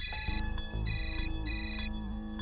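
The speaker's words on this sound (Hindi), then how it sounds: "बाप रे, कितने फोन आते हैं इसे।" A phone ringtone plays loud and close, a bright repeating electronic melody with no voices over it.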